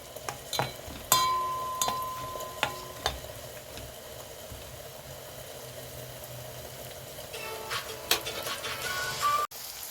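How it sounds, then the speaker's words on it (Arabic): A small onion sautéing in melted butter or ghee with oil, a steady soft sizzle with stirring scrapes and occasional clinks of a utensil against the pan, close and alone without talk. "هنزل اول حاجة ببصلاية صغيرة وهنشوحها"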